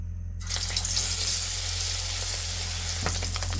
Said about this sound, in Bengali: এখন আমরা মাছটি তেলে ভেজে নিব